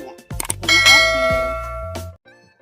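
A notification bell chime rings out with a bright, ringing tone and a sustained decaying tail, standing alone without any talk.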